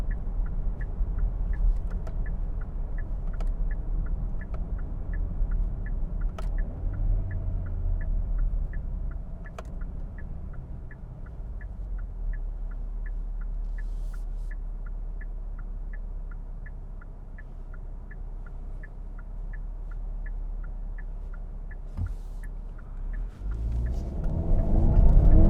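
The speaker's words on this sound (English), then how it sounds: "maybe switch into sport mode because I want to accelerate out of a turn" Kia Sorento in sport mode accelerating out of a turn, a steady low engine and road rumble from inside the cabin, with a faint regular ticking throughout and the engine building louder near the end.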